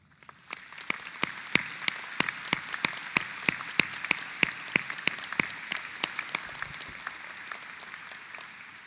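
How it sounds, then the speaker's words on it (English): Audience at a university graduation commencement applauds steadily, with crisp, regular claps standing out over a broad wash of crowd clapping, continuous throughout at moderate loudness. "Graduates, please join me in a round of applause for our faculty."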